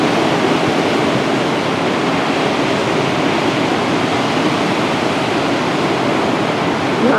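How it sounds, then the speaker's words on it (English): Atlantic Ocean surf breaks on the eroding north shore of Puerto Rico in a steady, loud, unbroken roar of rushing water close by. "The wave caught, it came up to me and nearly pulled me over."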